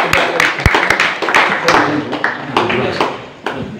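Applause for two guests at an evening event, with loud, uneven clapping, sharp taps and thumps and a crowd murmur beneath, fading briefly near the end before picking back up.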